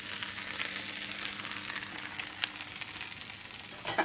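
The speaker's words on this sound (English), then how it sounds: "That's the butter on the pan." Butter sizzles in a frying pan for crumpets, a steady crackling hiss with small pops, close and alone.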